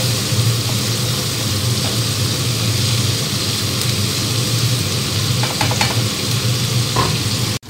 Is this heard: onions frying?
yes